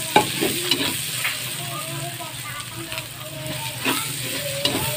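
Onion and ginger sauté with browned garlic in a pan for pork binagoongan, a steady sizzle with scraping stirs and occasional clinks under faint background voices.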